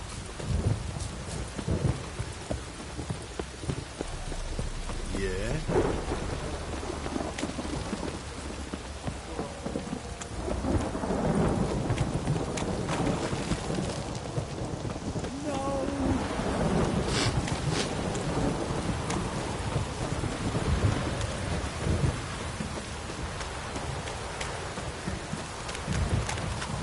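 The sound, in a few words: downpour with thunder in video game Witcher 3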